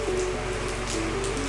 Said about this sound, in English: It's been pouring rain all day.